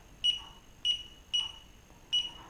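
A timing-system scanner reads athletes at a race finish line and sounds four short, clear electronic beeps at a fairly even pace, fairly faint, with little else around them.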